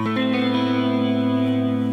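One guitar chord strummed once and left ringing, sustaining evenly and fading slightly over two seconds.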